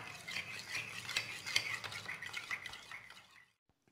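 A spoon stirs cornflour into warm milk in a cup, steady scraping and clinking strokes close by that stop abruptly near the end, with no talk.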